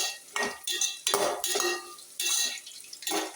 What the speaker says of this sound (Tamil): தக்காளி போட்டு நல்லா வதக்கலாம்